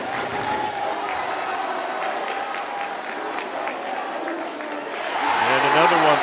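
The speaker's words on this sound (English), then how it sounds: "The crowd chanting, just like football." High school boys basketball crowd in a gym during a fourth-quarter game, a steady wash of cheering and applause with rhythmic chanting that swells louder toward the end, with a voice talking over it.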